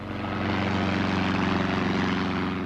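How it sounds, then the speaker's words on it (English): A propeller plane flying through mist over countryside just outside London and coming in to land, its steady engine drone loud and close, holding even throughout with a slight pulsing throb. "A plane flying through the mist which shrouded the countryside between Hatfield and Welling, just outside London, and coming into land."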